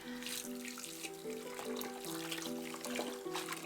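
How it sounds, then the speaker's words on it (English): A knitted sweater being squeezed by hand in warm water with detergent, giving a steady wash of sloshing, trickling water; tonal ringing hums run through it, and no one speaks. "like squeezing it in the warm water with some detergent and then do a second rinse cycle with just water."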